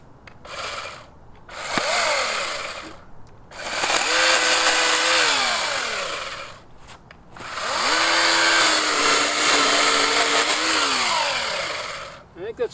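A Ridgid chainsaw fitted with an Oregon 16-inch bar cuts wood in several loud bursts, its engine revving up into long whining cuts and dropping back between passes, close to the microphone.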